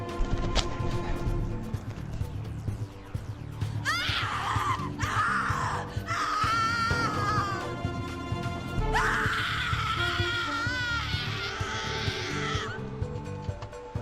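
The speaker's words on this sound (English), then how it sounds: "Your scream is like a poem without words." Screams from a character in The Cat Lady, a dark horror adventure game, two long shrill bursts with a wavering pitch rising over a steady low musical drone, loud and close, with no talking.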